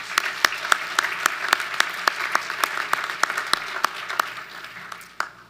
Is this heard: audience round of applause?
yes